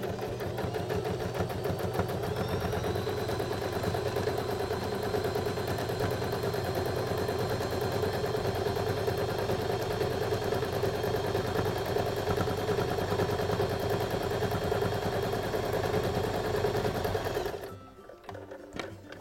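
A sewing machine runs a fast continuous stitching drone while sewing a backpack zipper seam, loud and steady for about seventeen seconds before stopping abruptly.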